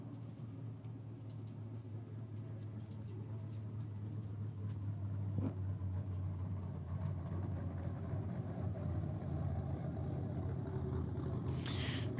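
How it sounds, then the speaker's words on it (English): A tractor engine runs steadily at a drag racing track, a low continuous rumble at moderate distance with a brief sharp sound near the end. "looks like they're gonna run the tractor up and down a few times"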